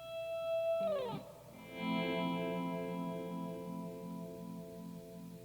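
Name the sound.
guitar pull-off from the E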